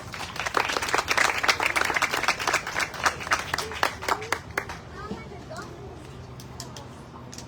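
An audience applauds at a public event launching a children's zero-drowning initiative in Miami, with dense clapping that swells early, then thins and fades to scattered claps and quiet room noise.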